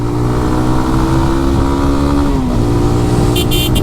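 A GPX Demon motorcycle engine drones steadily up close on a cold day, its pitch shifting slightly as it rides through traffic, with a brief horn-like beeping near the end.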